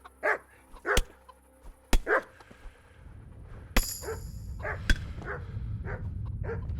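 Dogs bark repeatedly in the medieval video game Kingdom Come: Deliverance, with close yips and woofs at first, then sharp clanks over a steady rumbling background.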